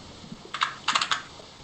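Fingers type code on a computer keyboard while building an HTML Bootstrap form: a brisk run of close, clicky keystrokes in small clusters, with no voices.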